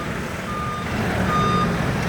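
Reversing beeps from a tow truck preparing to haul a broken-down truck at a street corner near a market, repeating in a steady series over a constant hum of traffic and engine noise.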